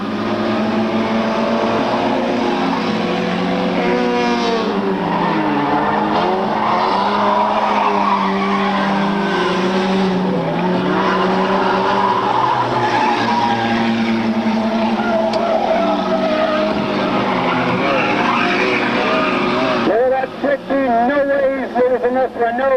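Race cars roar around the track at a 1997 race, engines whining and shifting pitch continuously and loudly as they pass, with an announcer talking over them throughout.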